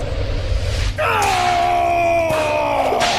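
A scream in a Thor: Love and Thunder scene: after a brief pause, a loud, sustained wailing cry with strong harmonics runs for about two seconds over rumbling background noise.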